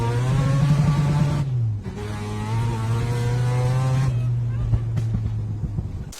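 A four-rotor rotary engine car idles and blips nearby, a loud buzzing hum with a brief dip in revs before settling back to a steady drone.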